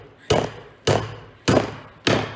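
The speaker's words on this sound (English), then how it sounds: "just let the hammer hit the nail" Four evenly spaced, solid hammer blows strike a nail, each a sharp thud with a short ringing decay, close and loud.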